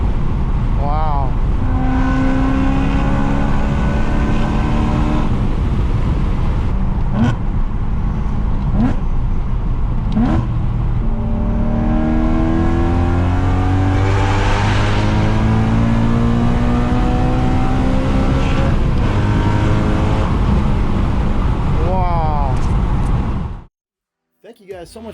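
BMW M3 with an aftermarket exhaust revving hard, a loud continuous engine roar with rising and falling pitch sweeps and crackling bursts, close up, running for over twenty seconds before cutting off abruptly.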